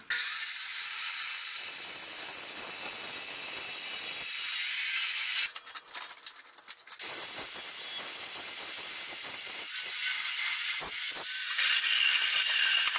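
A saw cuts clamped trailer steel at a 45-degree angle during a tandem axle trailer rebuild, a steady harsh grinding whine held for several seconds with a brief rougher patch midway, close and loud with no talking.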